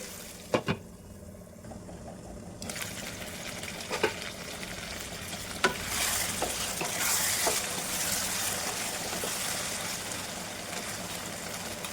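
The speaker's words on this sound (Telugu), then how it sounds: "మధ్య మధ్యన మిక్స్ చేసుకుంటూ ఫ్రై చేసుకోండి" Garam masala spices frying in a pan while being stirred now and then, a continuous close sizzle broken by several sharp scraping knocks of the spoon against the pan.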